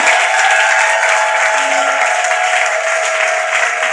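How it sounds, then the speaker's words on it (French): Church congregation clapping and acclaiming during a French-language worship service, a loud sustained wash of applause with a steady tonal hum from music or the sound system underneath. "Est-ce que tu peux acclamer donc Jésus"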